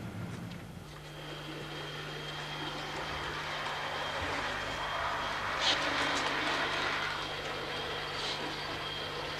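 Model train running on a railway layout, a steady rumbling roll with a constant low hum and faint metallic clicks, moderately close and continuous, with no talk.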